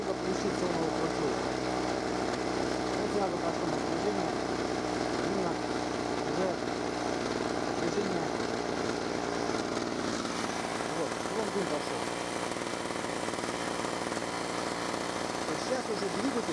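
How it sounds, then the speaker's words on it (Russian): A small petrol generator engine from a range-extender unit for electric wheelchairs runs at a steady idle, a constant buzzing drone close by, with someone talking over it at times. "бензиновый двигатель вращает генератор"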